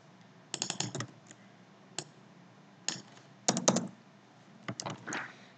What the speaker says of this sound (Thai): ทีนี้เราก็มาพิมพ์ตัวที่เราเป็นตัวแปร